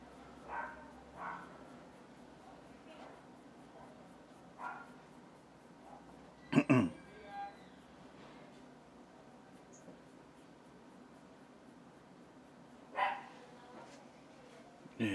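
A dog indoors gives a few faint, scattered short barks and yips across a quiet room, spaced irregularly with long gaps between them.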